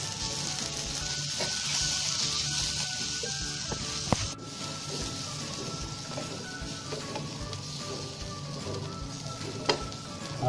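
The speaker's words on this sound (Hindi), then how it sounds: "हरा धनिया देने के बाद आधा मिनट पका लेने का" A pan of sweet pumpkin skin sabzi with fresh coriander sizzles steadily, a close, bright frying hiss with occasional stirring scrapes and clicks.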